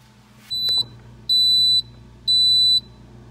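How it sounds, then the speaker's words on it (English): Three loud, high-pitched electronic beeps from a Kenmore Elite refrigerator door alarm sound at an even pace, each about half a second long, after a short click. "what is beeping?"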